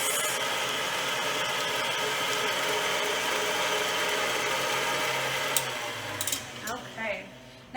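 A stand mixer whirs steadily through brownie batter with a gear-like mechanical drone, close and constant before stopping near the end, when faint voices come in.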